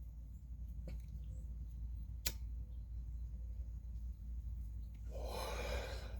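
A person who has just woken up gives a single breathy yawn near the end, quiet and close, after a few seconds of near silence.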